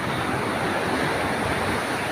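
Steady rushing surf, a continuous wash of breaking ocean waves without any voices.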